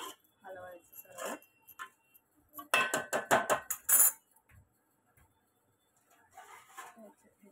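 Vegetable rice with capsicum and peas is stirred in a pan, a quick run of close metallic scrapes and clinks in the middle, with someone speaking before and after.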